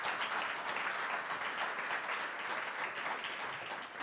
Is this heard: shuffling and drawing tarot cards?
no